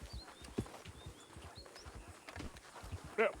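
Horse hooves clip-clop steadily on the ground in a quick, even rhythm, fairly close, with a few faint high chirps in the background and no talking.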